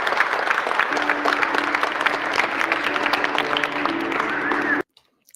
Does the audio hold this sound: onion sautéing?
no